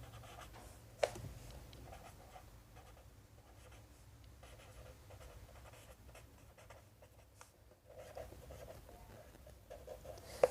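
Marker or chalk writing on a board during a ratio and proportion lesson, heard as faint, intermittent scratchy strokes over a quiet room. There are a couple of sharp taps where the writing tool meets the board.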